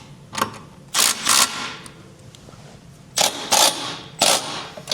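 A ratchet wrench tightens trailer hitch mounting bolts on a 2026 Kia Carnival Hybrid in short bursts of fast clicking, five separate runs with pauses between, close and clear.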